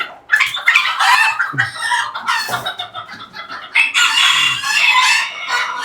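A rooster on a mixed farm of diamond doves and foreign chickens crows loudly and close, with repeated strained calls and clucking from other fowl around it, almost no talk.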